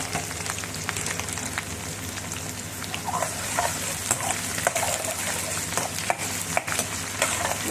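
Mustard seeds and onions fry in a pan for savory rice dumplings, making a steady, low crackling sizzle with scattered small pops and stirring noises.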